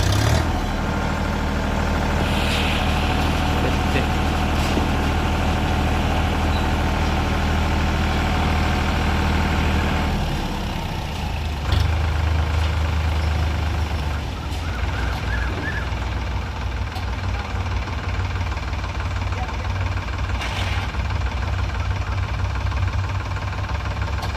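A tractor engine runs steadily throughout, a loud continuous low rumble with a heavy throb that shifts in tone partway through as it is manoeuvred, with no talking.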